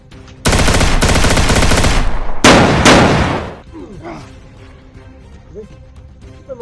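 Loud bursts of rapid machine-gun fire, two long volleys with a short gap, then fading into quieter background noise with faint voices.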